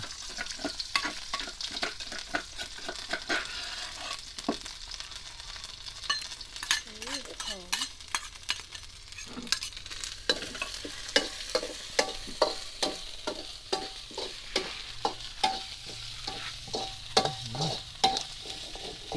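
Chicken offal (liver and giblets from a village chicken) stir-fried with fresh pounded curry paste in a hot pan, giving a steady sizzle broken by repeated scraping clacks of the spatula stirring close by.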